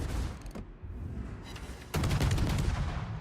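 Naval gunfire in World of Warships, with loud booming salvo blasts and rumbling over continuous game noise, the heaviest burst coming in the second half.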